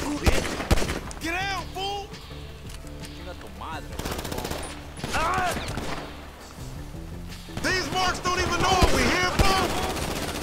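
Gunfire in a shootout in the video game GTA 5, with rapid bursts of automatic shots and sharp single cracks scattered across the stretch, loud and close, while someone talks throughout and other voices cry out.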